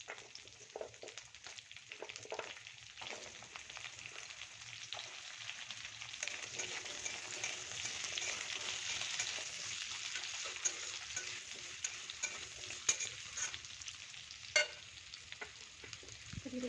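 Potatoes fry over a low gas flame in a pan for a spinach dish, giving a steady close sizzle with occasional scraping stir strokes and a few sharper clinks, no voices.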